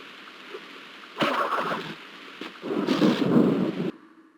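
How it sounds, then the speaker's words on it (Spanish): Rain and thunder ambience in the video game Crash Bandicoot: a soft steady rain hiss broken by two rumbling thunder swells, each lasting about a second, fairly close and without talk. "aquí sí pusieron el sonido de la lluvia y de los truenos como sonidos ambientales"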